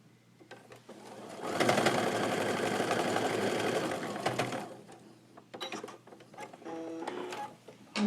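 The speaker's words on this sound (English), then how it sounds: "So I'm just going to chain piece these. It goes pretty quickly that way." A sewing machine stitching quilt block pieces in a chain, a fast steady mechanical whir for about three seconds, then quieter short bursts and clicks of handling nearby.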